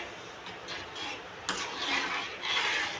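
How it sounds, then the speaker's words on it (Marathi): A spoon stirs besan pithla in a pot, giving soft, quiet scraping and a few light clinks against the metal, with one sharper knock midway. "थोडी उकळी येईपर्यंत आपल्याला हलवायचं आहे"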